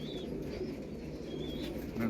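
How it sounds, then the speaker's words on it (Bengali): Six pigeons, mostly young birds with one adult, waiting for delivery, giving soft low coos against faint background chatter and chirps, close by and moderately quiet. "পায়রা দেখুন, এখানে 6 পিস পায়রা আছে"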